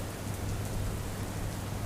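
Light rain falls steadily over waterlogged streets in Patan, Gujarat, a continuous even hiss of drops with no pauses and no voices.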